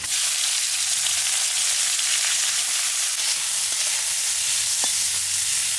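Dry red chillies and mustard seeds frying in mustard oil, a steady close sizzle running unbroken throughout with a faint spit or two near the end.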